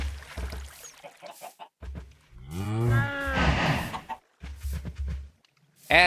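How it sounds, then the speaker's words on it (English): Minecraft cows give several low, close moos. One long, drawn-out moo sits in the middle and shorter lowing calls come before and after it, with brief quiet gaps between. "My god, that is a lot of cow."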